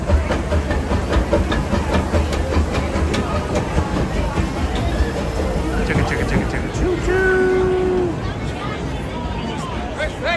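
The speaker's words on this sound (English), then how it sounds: "I hear the train a-coming." A Disneyland steam train approaches amid a busy park crowd, its hiss and rumble rising in the middle with a whistle near the end, all under chatter and voices.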